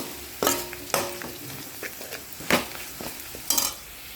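Red chilli powder and garam masala fry in a pan for masala shevige, with a few sharp scraping stirs and clinks over a soft, steady sizzle, close and alone.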